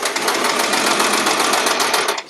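Sewing machine stitching quilt fabric, a fast, even mechanical whirring rattle close by, running steadily for a couple of seconds before stopping, with no talk.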